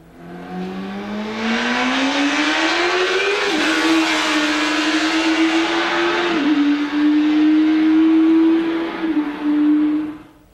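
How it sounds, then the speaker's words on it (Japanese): A Japanese-made six-cylinder 1000cc DOHC motorcycle engine revs steadily and loudly for about ten seconds, its smooth high-pitched drone climbing, dipping briefly and holding, with no voices. "この国産の6気筒 1000cc DOHC のオートバイの音"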